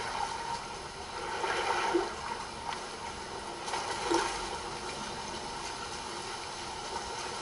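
In the video game Ghost Recon Breakpoint, water sloshes and swirls quietly, a soft, continuous wash with gentle surges and no voices.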